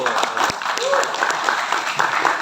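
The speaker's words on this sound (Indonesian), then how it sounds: "Tepuk tangan dulu." Audience applause at a university talk event, scattered claps heard beneath and between a speaker's voice, fairly close and moderately loud.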